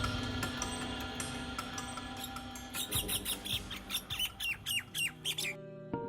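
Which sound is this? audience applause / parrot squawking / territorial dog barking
parrot squawking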